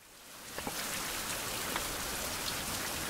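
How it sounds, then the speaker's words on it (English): Steady, dense rainfall in the survival video game Survival: Fountain of Youth, a continuous even hiss of drops hitting surfaces that fills the whole stretch with no voices over it. "It's dark, it's rainy, it's nasty."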